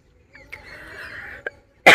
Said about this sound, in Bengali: শশা খেয়ে কাশি হচ্ছে রে।